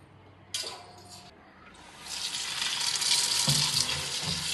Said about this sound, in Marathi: भाजी 2दा चांगली धुवून घेते।